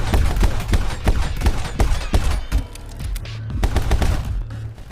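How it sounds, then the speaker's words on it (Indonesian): Rapid bursts of gunfire from the video game My Friend Pedro crackle in quick volleys, sharp repeated shots like automatic weapons, with a short lull before another flurry. "Hal yang paling menonjol dalam musik adalah suara tembakan"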